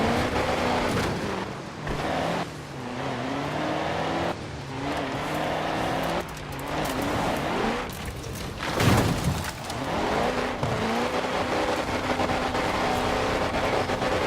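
A Mercedes races through a street race in Forza Horizon 4, its engine roaring loud and close as it revs up through the gears with repeated shifts, with a tire squeal and a brief rough burst partway through.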